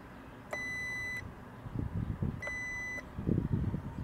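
Two steady electronic beeps from a multimeter continuity test on a car's 120 amp block fuse, each about two-thirds of a second, with rustling handling noise between and after.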